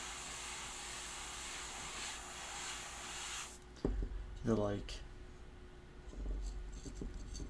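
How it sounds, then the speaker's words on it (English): Spray paint hisses steadily from a can onto a masked World Eaters miniature for a few seconds, then cuts off. Soft handling noises and low speech follow. "get the spray without spraying onto the armor."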